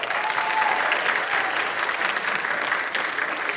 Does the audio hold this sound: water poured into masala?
no